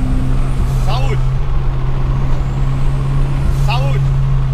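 Turbocharged car engine drones steadily up close while two sharp, sneeze-like turbo blow-off hisses burst out, one near the start and one toward the end.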